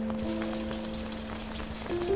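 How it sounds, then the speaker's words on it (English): Rain falls in the video game Rainy Day as a soft, steady patter under a low sustained musical drone, continuous and fairly quiet for about two seconds. "It's raining"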